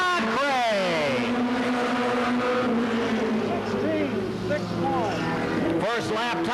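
A NASCAR Goody's Dash race car laps in qualifying at Anderson, South Carolina, its engine rising and falling in pitch as it passes, with loud crowd and announcer talk over it.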